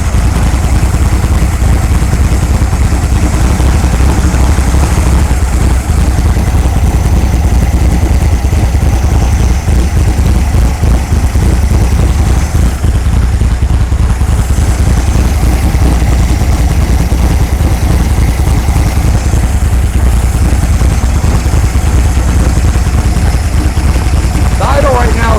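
An air-cooled engine in a 1964 VW Beetle, which is running poorly and has several damaged parts, idles loudly and steadily right next to the listener for the whole stretch.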